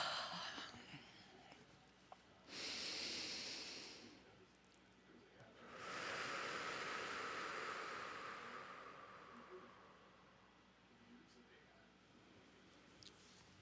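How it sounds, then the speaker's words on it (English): Two slow, deep breaths drawn during a guided new moon meditation. Each is a soft, airy rush. The first is short, and the longer second one fades gradually into quiet room tone with no talking. "let's all take a couple of nice deep breaths"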